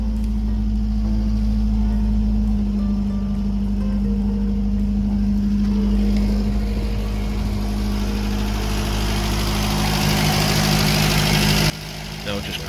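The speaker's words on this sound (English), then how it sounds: "All I've done is turn the idle stop screw in a bit, so it's revving high with no throttle and no choke," A 1977 Vauxhall Cavalier MK1 engine fitted with a Weber 32/36 DGV carburettor running at a high idle with no throttle or choke: a steady, even mechanical hum and drone that holds for most of the stretch before dropping in level near the end.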